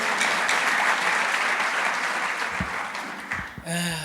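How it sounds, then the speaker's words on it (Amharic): A church congregation claps together in a dense, steady wave of applause that fills the hall for several seconds, then breaks off abruptly as a musical tone rises at the end. "አጨብጭቡና ቁጭ በሉ።"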